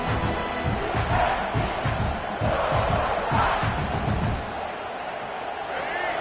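Stadium crowd at a football game roaring loudly with rhythmic chanting surges and cheering, dense and sustained before easing slightly near the end.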